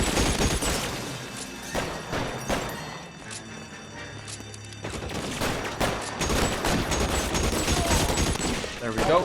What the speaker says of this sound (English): I think this is a Tommy gun